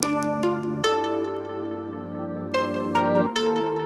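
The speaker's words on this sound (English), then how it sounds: "it's just kind of reversed sounds here" Reversed sounds swell and cut off in a dreamy electronic music track, layered over a steady sustained bass tone, with several sharp reversed-attack onsets spread through the passage.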